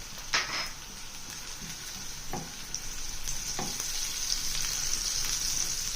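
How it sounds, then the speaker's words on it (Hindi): Chopped garlic and green chillies fry in a pan for chicken and vegetable tortilla wraps, hissing in a steady, close sizzle, with a few soft clinks of stirring. "अब इसमें 2 से 3 जवे लहसुन के मैंने ये चॉप कर लिए, ये डाल दिए। इसे भी 1 से 2 मिनट तक फ्राई होने देना है"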